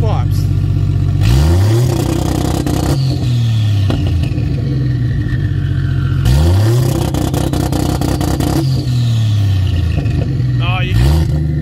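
A 600hp 2JZ-powered Commodore drag car revs hard through open race pipes, loud and close, with two long rising and falling blasts separated by rough, crackling idle.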